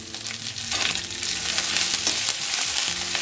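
Curry leaves hit hot oil with golden-browned dal for rava upma, a loud, steady crackling sizzle with spattering pops throughout.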